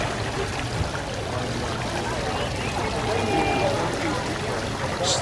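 Outdoor water fountain with flames shooting from its top at Gatlinburg SkyPark during a Christmas decorations tour: a steady, close rush of splashing water fills the whole stretch, with a faint murmur of people in the background.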